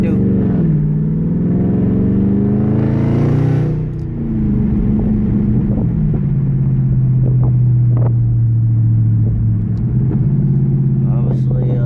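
Dodge Hellcat SRT V8 dropping gears on a test drive, a loud, deep, steady interior engine drone with revs rising and falling as it downshifts and settles, no talk.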